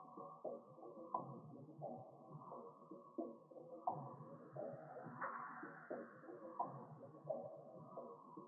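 Layered textured percussion loops with an added snap, built in FL Studio for a dark R&B beat, play in a steady repeating groove of crisp hits and shuffling textures, with no voices.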